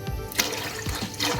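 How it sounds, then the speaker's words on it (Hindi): One litre of milk poured into a pot for bread kheer, a steady liquid splashing and trickling close by, running continuously with no talking. "इसमें डाल रही हूँ मैं 1 लीटर दूध अभी"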